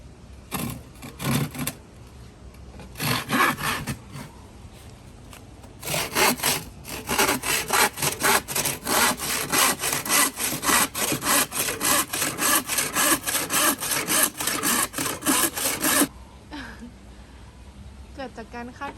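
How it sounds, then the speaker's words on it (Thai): Hand saw cutting wood for a treehouse build up close, fast regular rasping strokes in a long steady run, with a few brief scrapes before and after. "โหเลื่อยเองด้วยเหรอเนี่ย"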